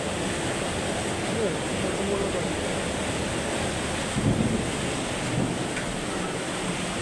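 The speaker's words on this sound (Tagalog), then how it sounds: "Napakalakas ng buhos ng ulan. May kasamang kulog." A dense, continuous roar of heavy night rain pours down in Dasmariñas, Cavite, with a low thunder rumble briefly swelling partway through; no clear speech rises above it.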